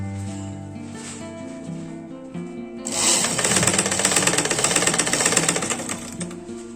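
Golden lace is stitched onto a blouse neckline on a sewing machine: a loud, rapid, close mechanical chatter starts after a quieter moment and runs steadily to the end.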